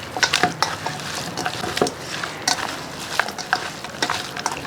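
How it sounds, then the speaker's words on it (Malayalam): Chicken being mixed by hand with masala and curry leaves for chicken curry, giving close, uneven squelching and rustling with a few light knocks against the dish. "ഇനി ഇത് നന്നായിട്ടൊന്ന് മിക്സ് ചെയ്തെടുക്കാം കൈകൊണ്ട് തന്നെ ഒന്ന് മിക്സ് ചെയ്ത് നമുക്കൊന്ന് എടുക്കാം"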